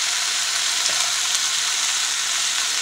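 Sausage and onion sizzling steadily as they caramelize in a frying pan, a constant close hiss and crackle with no talk.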